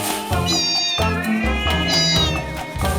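A cat meowing repeatedly, loud, close, drawn-out cries with rising and falling pitch, several calls in quick succession.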